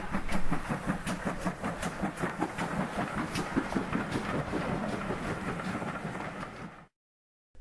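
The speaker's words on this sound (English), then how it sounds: "The railway could be very noisy, with trains racing past," Train racing along a railway line, a continuous rumbling clatter with rhythmic wheel clicks close by for about seven seconds before cutting off abruptly into silence.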